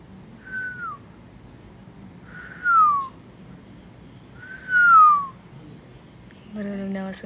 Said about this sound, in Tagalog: Marunong na ako sumipol.